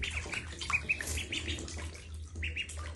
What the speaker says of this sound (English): Can you stop splashing my neck?